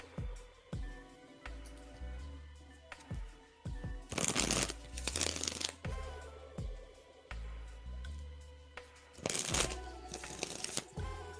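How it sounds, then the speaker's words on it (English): Tarot cards shuffled by hand in repeated bursts: soft riffling and tapping strokes, with two louder, longer flutters of cards cascading, close and clear with no talking. "We are shuffling for Liz now."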